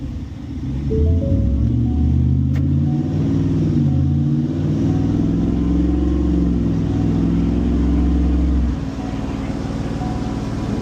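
A 2025 Ford F-150 with a Whipple-supercharged 5.0 engine makes a loud, sustained pull on a chassis dyno, its engine note climbing steadily through the gears for about eight seconds before backing off.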